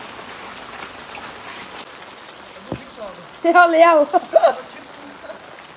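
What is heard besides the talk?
heavy rain in village, Mirpur Azad Kashmir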